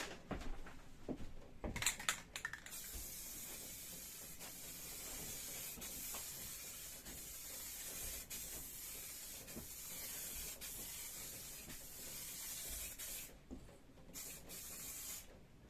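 Light coats of spray paint going onto a 1999-2007 Chevrolet Silverado dash, a steady hissing aerosol spray in long bursts with brief pauses, preceded by a few rattles and clicks.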